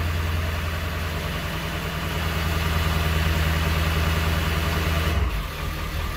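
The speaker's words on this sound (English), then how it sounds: "Now we're going to confirm that the tuner is working by going to our high idle, which is tune number one." A Ford Powerstroke Super Duty diesel engine running at high idle, a steady, loud, close rumble with constant drone that dips and shifts briefly near the end, no talking.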